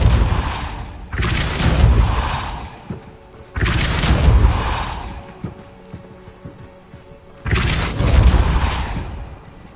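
Depulso spells are cast again and again in Hogwarts Legacy, three loud booming bursts spaced a few seconds apart, each a heavy whooshing thump that fades out before the next.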